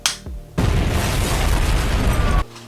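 A sudden loud burst of fire roars while a hole is burned through a cup during clay doll making, a dense whooshing blast lasting about two seconds before cutting off abruptly.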